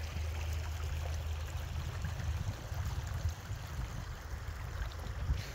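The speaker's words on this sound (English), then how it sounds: "I saw some moving water, so one thing led to another. Found another culvert I haven't been to yet." Steady water rushes through a canal culvert east of Amsterdam, a continuous low, rumbling flow with a bright trickling wash on top, fairly close and unbroken throughout, with no voices.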